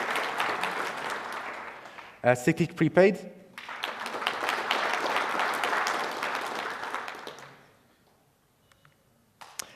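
An opening ceremony audience applauds sponsors in a short burst of clapping that rises and fades within a few seconds, framed by someone speaking through a microphone before and after.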